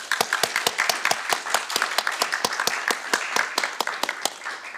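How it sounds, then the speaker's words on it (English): Round of applause at a council cabinet meeting, a modest group clapping in quick overlapping claps throughout, fairly near and steady, with no voices over it. "I think we should have a round of applause."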